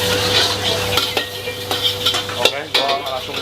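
A spatula scrapes and clanks against a pan while nasi goreng kampung fries in a busy food stall kitchen. There are repeated metallic knocks over a constant loud sizzle.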